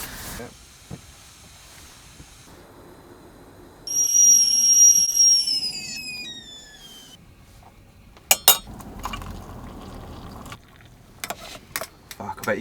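A kettle whistles shrilly as its water boils while someone camps in central London, the tone gliding and wavering for a few seconds before dying away. Metallic clinks and clatter follow, and someone talks nearby.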